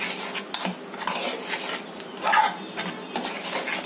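Oats omelette batter with salt is whisked in a bowl, a close, brisk run of rhythmic scraping and clinking of utensil against bowl.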